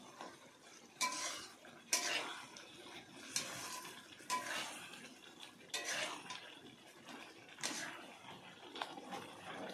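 Ground roasted spices are stirred into a pan of cooking raw mango pickle, a spoon scraping and clinking against the metal in repeated strokes over a faint low sizzle, close and fairly quiet.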